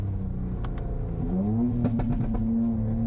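A loud car engine heard from inside while driving, a steady low rumble that climbs in pitch as it revs and accelerates, with a few faint clicks and thumps over the drone.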